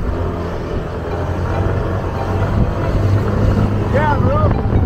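A motorbike carries riders through the Rocinha favela in Rio, its engine droning steadily and close under rushing wind, with voices talking over the ride.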